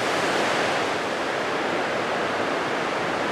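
River water flowing through Mitake Valley near Tokyo, a steady, dense rushing hiss that stays even and continuous throughout, fairly close and moderately loud with no voices.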